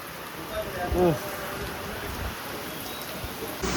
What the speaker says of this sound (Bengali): কি ঝড়, জাস্ট বৃষ্টিটা দেখো, বৃষ্টি তো হচ্ছেই, বাট তার সাথে এরকম ঝড়